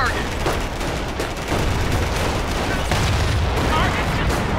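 Dense battlefield gunfire from Company of Heroes on Omaha Beach, overlapping rifle and machine-gun bursts with dull booms in a loud continuous clatter, shouted voices mixed in underneath.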